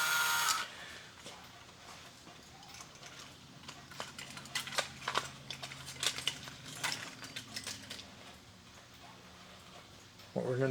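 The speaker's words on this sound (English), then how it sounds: "you've got your normal walking legs with the ratchet wheels and the great gears turning" Clicking, ratcheting mechanical chatter of a vintage remote-controlled toy gear robot walking, with ratchet wheels and gears turning in a steady stream of small clacks.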